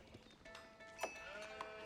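Sheep bleat in the Age of Empires strategy game, one clear quavering bleat standing out over faint, layered game ambience.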